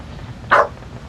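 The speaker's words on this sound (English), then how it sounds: "in here barking down the hallway" A dog gives a single short, sharp bark down a hallway. It sounds moderately close against quiet game background sound.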